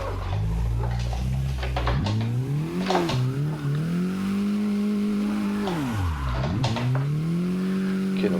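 Mazda MX-5 Miata drifting on a closed drift course, the engine revving hard and dipping between throttle blips while tires squeal and skid continuously at close range.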